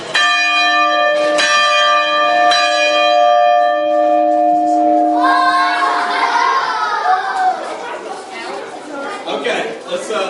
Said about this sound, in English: I'm about to ring the bell if you get kind of loud.